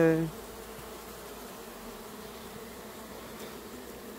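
Honeybees hum in a dense, steady drone inside a smoked hive during queen introduction, the colony left queenless the day before; a brief louder sound opens the clip before the continuous close buzzing settles in.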